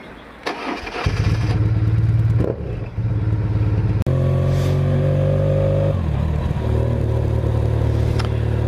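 A motorcycle fuelled with a bioethanol and SP95 petrol mix starts and settles into a steady idle. It cuts briefly midway, then catches again and runs on, loud and close.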